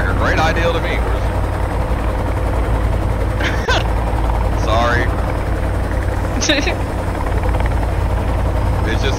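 A helicopter in the survival game Sons of the Forest drones with a loud, constant rotor and engine roar throughout, while someone talks briefly over it.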